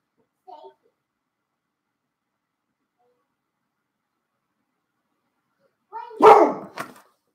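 A dog barks loudly a couple of times close by near the end, following a brief faint sound and long silence.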